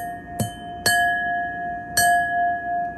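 Crystal glassware tapped three times, each strike giving a bright ringing tone with a sustained bell-like hum that carries on between taps, close and clear with no voices.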